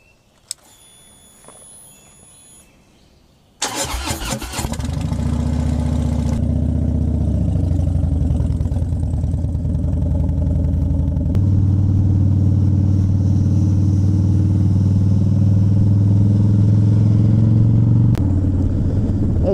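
A motorcycle engine fires up after a quiet stretch, then runs steadily and loud at close range as the bike rides off on a warm June morning, the drone holding through gear and speed changes.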